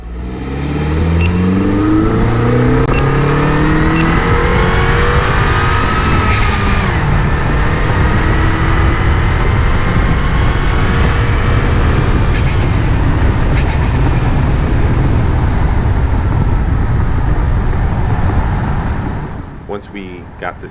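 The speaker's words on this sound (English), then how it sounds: "we're going to drive the car in a little bit and see if that makes a difference." A Mini fitted with a chassis brace drives on the open road, with a steady loud engine and road rumble that rises as it accelerates early on and then holds for about twenty seconds.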